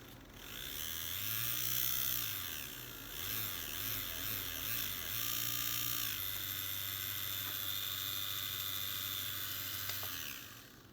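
A Roomba drive motor, running with its wheel on a bench power supply, whines steadily, its pitch rising and falling, then wavering several times, then holding steady before cutting off, close and alone.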